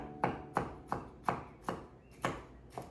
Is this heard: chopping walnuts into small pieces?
yes